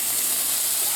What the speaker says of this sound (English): And a lot of sizzle is good.